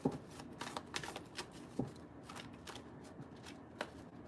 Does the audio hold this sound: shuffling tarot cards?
yes